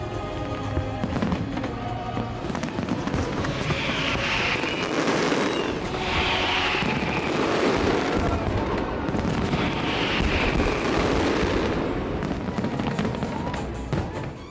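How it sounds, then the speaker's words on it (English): Fireworks burst in dense, overlapping volleys over the river in Budapest for a St Stephen's Day show, with loud cracks and booms, crackling sparkle and music underneath. "the long, colorful and intricate show of fireworks and music"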